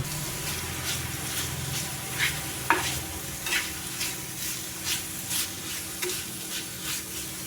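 Prawns and raw banana with turmeric sizzle in a pan while a utensil stirs them, scraping strokes recurring every half second or so over the steady frying hiss.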